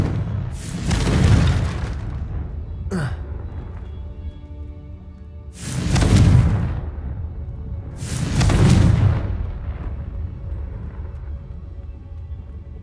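Three loud, booming blasts of the Confringo spell in a wizard video game, each swelling and then fading over about a second, with a sharp whoosh between the first two.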